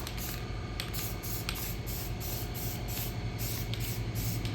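Steady close spray-paint hiss as light matte coats are sprayed onto the back sides of Robotron and Sinistar arcade game parts, continuous and even throughout with faint rhythmic pulses.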